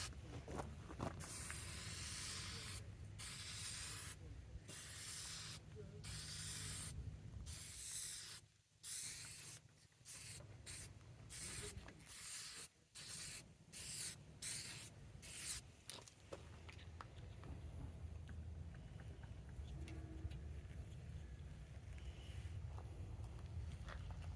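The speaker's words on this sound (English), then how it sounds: "A little test spray." An aerosol can of Glass Mechanix headlight restoration spray sprays a test coat in a series of short hissing bursts separated by brief pauses, then hisses more continuously. The sound is soft and fairly close.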